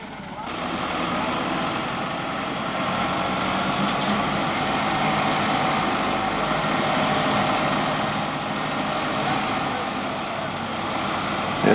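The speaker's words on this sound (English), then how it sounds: "Our German neighbour Horst had a tractor, but it wasn't enough." A tractor engine labors steadily while trying to pull a newly built boat across soft ground to launch it, a continuous loud drone with no breaks and no talk.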